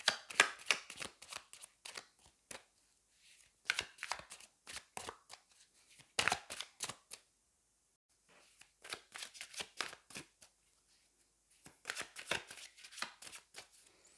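Tarot cards being shuffled and drawn on a table: quiet, close papery riffles and snaps in irregular bursts, with short pauses of near silence between handfuls.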